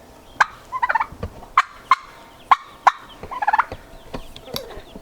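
A white long-necked goose on a farm calls in a run of loud, close honks and rapid chattering bursts, with other fowl calling around it.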